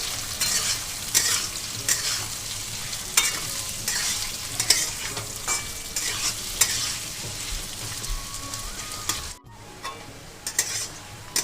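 Two chopped onions frying lightly in oil while being stirred, a close steady sizzle with frequent scraping spatula strokes, briefly cut near the end, no talking.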